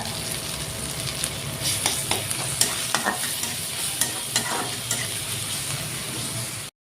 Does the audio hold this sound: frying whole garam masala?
yes